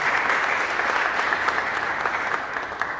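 Steady applause from a congregation for deacons in a chapel, a dense, even patter of many hands clapping close and loud, sustained without a break and with no talking.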